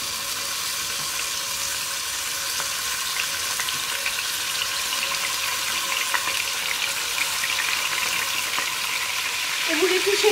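Beef pieces browning in oil in a cocotte for boeuf bourguignon, a steady close sizzle and crackle of frying, continuous and alone.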